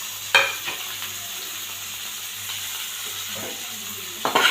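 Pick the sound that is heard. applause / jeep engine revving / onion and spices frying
onion and spices frying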